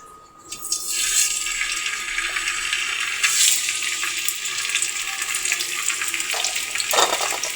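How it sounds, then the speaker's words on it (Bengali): Tilapia pieces rubbed with salt and turmeric hitting hot oil, a loud continuous sizzle and hiss that starts abruptly and stays steady throughout, close to the pan. "তো আমি এখানে মাছ ভেজে নেব।"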